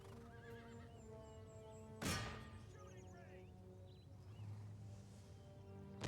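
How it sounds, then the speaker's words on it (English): Horses neigh and whinny during a cavalry charge in the Empire: Total War video game, with a sharp burst of battle noise and hooves clattering under the cries, fairly faint in the mix. "Oh, look at this horse charge here."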